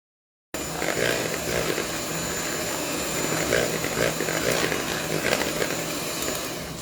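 Electric beater whisking Biscoff waffle cake batter, a steady continuous motor whir held at an even level for several seconds with no talk over it.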